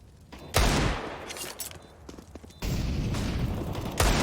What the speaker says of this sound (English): firing back and unable to catch anything with his sidearm